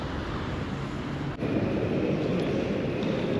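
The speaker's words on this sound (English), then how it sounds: "Okay, so I found a train." A train rumbles at a railway station in a low, steady roar that fills the whole stretch, broken by one brief click partway through.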